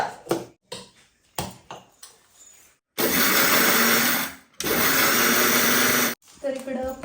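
A mixer grinder pulverizes about one and a half cups of coconut in two loud, steady whirring bursts with a short stop between them, after someone speaks near a few clinks and knocks.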